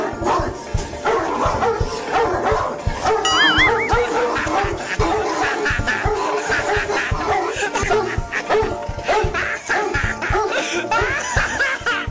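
A dog barks and yips repeatedly after someone kicks the kennel it is lying in, the barking near and loud, mixed with bursts of laughter and voices talking throughout.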